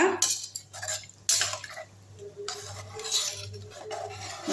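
A spoon scrapes and clatters around a metal pot of tamarind fish curry in several bursts, with a faint sizzle and low hum underneath.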